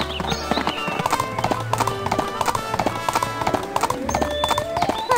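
Horse hooves clip-clop at a steady trotting rhythm in the Barbie Riding Club video game. The sharp, close hoofbeats repeat throughout over the game's continuous background music.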